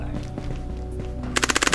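Burst of rapid automatic gunfire from an SKS rifle in the Ghosts of Tabor VR game, loud sharp cracks about eight in quick succession near the end, preceded by a low droning game ambience.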